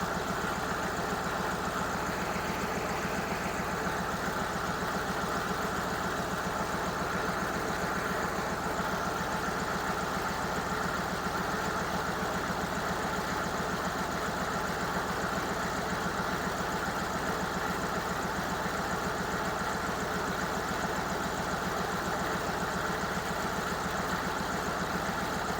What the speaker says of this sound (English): You can hear my MV4500 input shaft rattling.